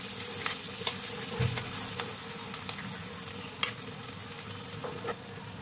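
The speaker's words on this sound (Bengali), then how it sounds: "আদা কুচি, পেঁয়াজ কুচি, লঙ্কা কুচি সব দিয়ে ভাজবো।" Chopped onion, green chilli and ginger frying in a pan, with a soft, steady sizzle and occasional light stirring clicks at a moderate distance.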